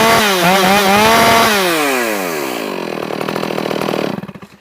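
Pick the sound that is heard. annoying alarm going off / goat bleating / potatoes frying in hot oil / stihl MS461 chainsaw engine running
stihl MS461 chainsaw engine running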